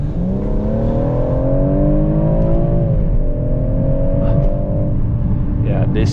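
A BMW M140i six-cylinder engine hums and pulls steadily under acceleration, its tone rising smoothly, loud and close as if heard from inside the cabin.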